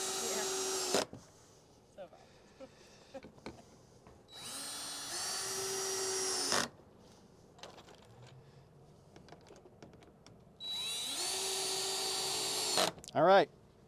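A power drill bores into wood while a compost bin is built, running in three sustained loud bursts, the last ending in a rising whine, with quieter handling clatter between them.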